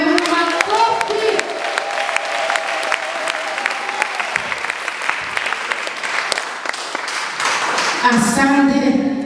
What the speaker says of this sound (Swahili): Tuchapie Mungu makofi